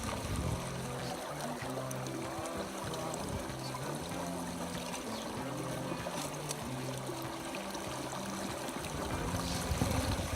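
River water runs steadily through a gold prospecting sluice with riffles, a continuous close rushing and trickling flow with faint motor-like hum underneath, no talking.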